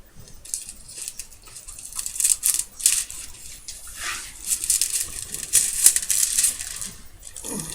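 Scissors snip through a piece of card while making a birthday card, giving close, crisp cutting sounds in irregular bursts with short pauses between strokes.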